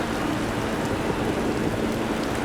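Steady hiss of rain falling on the track during a wet race in the MotoGP 20 motorcycle racing game, a dense, even wash of droplets that stays constant throughout with no voices.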